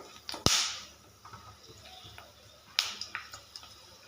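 Black pepper and cumin crackle in hot oil, with sparse sharp pops and snaps, two of them loud, over a quiet background sizzle.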